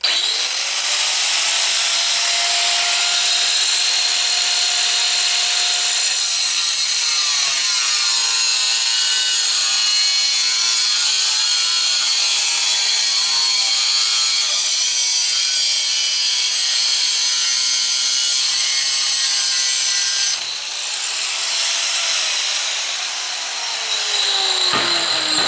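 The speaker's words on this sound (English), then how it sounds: "I have to cut this little corner off so I can get my 45 the way I want it" Steel picture-frame stock being cut with a Graff Black Metal cutting disk, a loud continuous high grinding whine held for over twenty seconds with a shifting pitch as the cut progresses.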